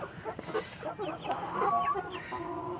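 Several hens nearing laying age cluck and murmur close by outside their pen on a small poultry farm in the Philippine countryside, their short calls overlapping at a moderate level.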